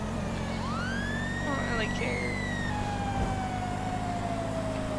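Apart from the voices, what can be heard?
siren in the video game GTA Online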